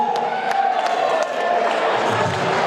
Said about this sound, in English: Give him one more big round of applause before he goes back to Newcastle.